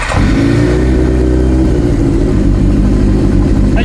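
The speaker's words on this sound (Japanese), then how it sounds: "ではエンジン始動していきたいと思います。" A Kawasaki Zephyr χ motorcycle with a black aftermarket collector exhaust runs loud and close, its engine burbling steadily at a low, rumbling idle with slight throttle swells throughout.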